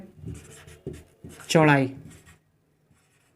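Chalk or marker strokes on a board during a physics lesson, short scratchy taps between and under a man's speech, close and fairly quiet.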